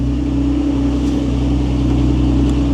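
Condenser cooling fans running on a high-mileage twin-turbo 1993 Acura NSX with two condensers and a radiator fan, a loud, steady whirring drone with a low engine hum beneath, unchanging throughout.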